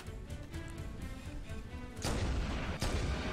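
Turret gunfire in Halo 1 booms in heavy, rapid bursts, sharper and louder after a moment, with dense low rumble and repeated blasts close up.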